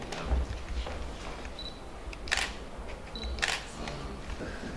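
A camera shutter clicks twice at an indoor writers' meeting in Baku, each a sharp mechanical snap standing out over a low room hum.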